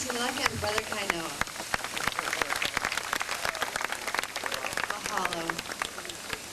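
Applause from a wedding audience at an outdoor waterfall area, dense patter of many hands clapping steadily throughout, with a voice speaking over it at times.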